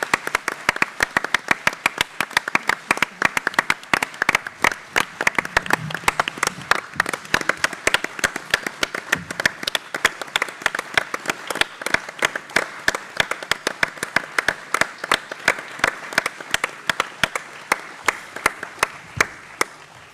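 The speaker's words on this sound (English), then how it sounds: "that we give her a round of applause to recognise her" Conference audience at the Welsh Labour Conference applauds a colleague, dense sustained clapping from a large hall crowd, loud and steady for a long stretch with no talk over it.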